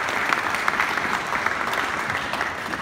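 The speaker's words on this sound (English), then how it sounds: "A round of applause." An audience applauds a young award winner at a Pacific youth awards ceremony, a dense, continuous wash of many hands clapping at once, steady and fairly loud with no clear gaps.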